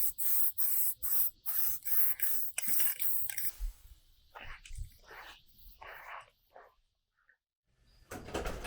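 Aerosol can spraying chrome paint onto a cosplay cargo prop, a series of sharp hissing bursts in quick rhythm, then slower, shorter sprays with pauses, close and clear with no talk.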